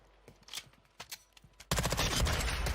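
Call of Duty Warzone gunfire: a few scattered sharp shots, then a sudden loud, dense burst of rapid automatic fire that fills the end.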